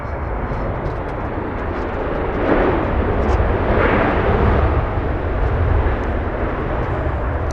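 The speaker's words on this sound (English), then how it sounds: "Planting that 777" A Boeing 777 airliner touching down on runway 24 Right at Los Angeles International Airport, heard as a steady broad roar of engines and rushing air that swells in the middle and then holds.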